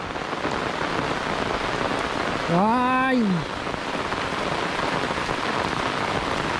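Steady rain pours over rice fields during ploughing and seedling sowing, a dense hiss filling the whole stretch, with a brief high exclamation from a voice midway.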